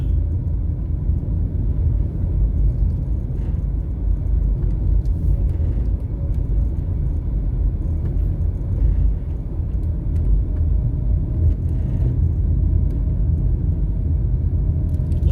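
A car climbing a hill on a residential drive through an upscale Kingston, Jamaica community, heard as a steady, loud low engine and road rumble from inside the vehicle, unbroken for the whole stretch.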